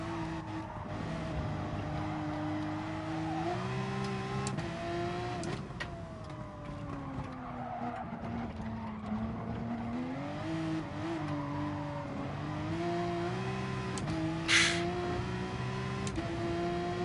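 Engine of a Porsche race car in a racing video game, a steady continuous drone with shifting pitch as it slides around the track, rising and falling with throttle and gear changes, with a brief harsh burst near the end.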